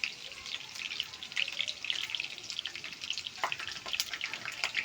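Chicken pakora fries in hot oil with a continuous, close crackling sizzle and scattered pops, with no talking.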